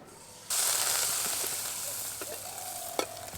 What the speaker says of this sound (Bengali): আবার একটা পাতা তেলের মধ্যে দিয়ে দেব